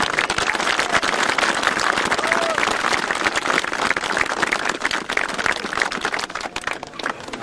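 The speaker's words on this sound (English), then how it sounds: "give them a great round of applause" A crowd applauds the Ballina team after a county junior A football final, a steady loud wash of clapping that holds throughout without letting up.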